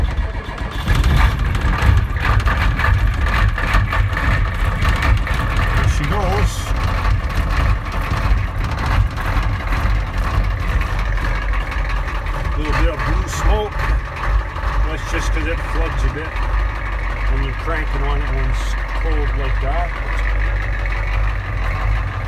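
A Ford 7.3 IDI diesel truck engine cranks and fires up in the cold after glow plug repairs, then settles into a loud, rough, steady idle close by for about twenty seconds.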